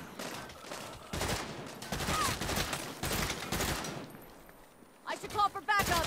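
Loud bursts of gunfire in the Saints Row video game, several volleys separated by short gaps, with someone speaking briefly between shots.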